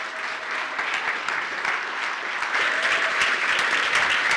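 A conference audience applauds a speaker taking the stage, with sustained dense clapping that holds steady and swells slightly toward the end.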